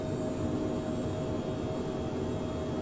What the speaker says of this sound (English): V1 rotates. Smooth takeoff, my friends.